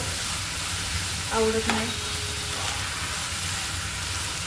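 Prawns frying in a pan of gravy, a steady broadband sizzle and hiss throughout with a brief stirring scrape, and a voice speaking briefly over it.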